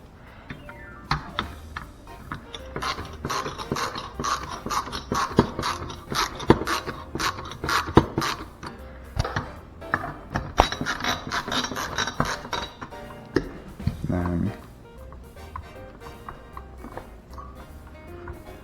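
Screws are worked loose to free a Deepcool AK620 CPU cooler from its back plate, making a dense run of close metallic ticks, clicks and rattles that stop near the end.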